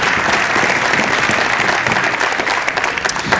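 An audience gives the beginning band a big round of applause at a school band demo night, a dense, even burst of clapping heard on its own.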